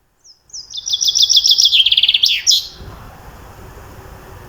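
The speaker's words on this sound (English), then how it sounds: "Birds chirp." A single bird chirps a quick run of bright, high tweets lasting about two seconds, close and clear, followed by faint background hiss.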